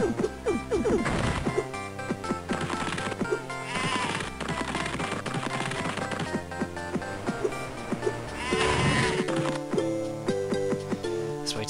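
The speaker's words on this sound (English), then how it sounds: "Well, Mr. Sheep, you gotta go flying." Sheep in the Spyro: Attack of the Rhynocs video game bleating loudly and getting smashed flying, with repeated crashing thwacks amid busy, cacophonous game music and effects.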